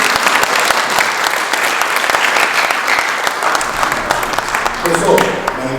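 Audience claps to welcome the first speaker at a research presentation, a dense, steady round of applause from a room of people, loud and close, tapering slightly near the end.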